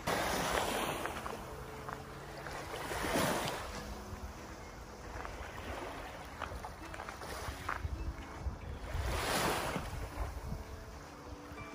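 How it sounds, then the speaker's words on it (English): Gentle waves lap on a shore, with soft, irregular surges rising and falling under a constant wash of wind noise; the scene is faint and calm, with no one talking. "Just the lapping of the waves."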